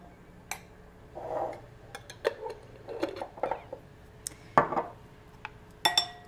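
A spoon stirs honey into homemade tartar sauce in a bowl, giving quiet, sparse clinks and soft scraping taps spread over a near-silent background.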